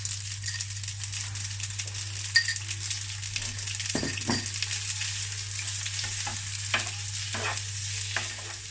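Spring onions frying in a pan with pasta, a soft continuous sizzle broken by occasional utensil scrapes and light clinks against the pan, close and quiet, with no talking.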